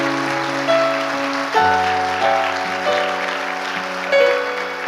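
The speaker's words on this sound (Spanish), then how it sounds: "Dele fuerte el aplauso al Señor." Church congregation applauds steadily in a worship service, the clapping running throughout over sustained keyboard or organ chords that shift every second or so.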